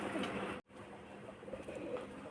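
Pigeons coo in the open countryside, soft throaty calls repeating close by against a quiet rural background, briefly cut off by a short gap before continuing.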